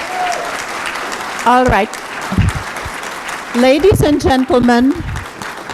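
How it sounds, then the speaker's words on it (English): Audience applause fills a mayoral debate hall, a steady clapping wash running under a moderator's voice that speaks over it near the start and again toward the end. "we had originally agreed that the applause would be at the very end"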